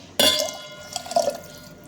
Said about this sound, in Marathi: त्याच्यामध्ये ना मी एक कपभर पाणी टाकते